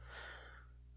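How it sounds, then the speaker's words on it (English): A single deep inhaled breath taken during a calming breathing exercise, quiet and close, rising quickly and fading out over about half a second with no talking. "Let's do a breathing exercise real quick."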